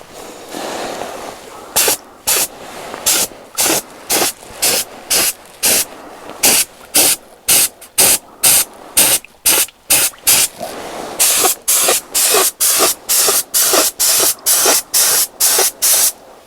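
Spray painting a base colour coat on Yamaha Fazer 600 parts: loud, close hissing bursts from the spray can repeat in a quick, even rhythm, about twenty short sprays with brief gaps between them.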